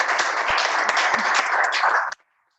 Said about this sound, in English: let's give Maria a round of applause